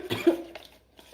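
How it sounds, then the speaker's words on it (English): A person coughs a few times close by while making turmeric and honey goat milk soap with sodium hydroxide lye; the short hacking bursts are moderately loud, then fade into quiet. "so don't worry if I'm coughing"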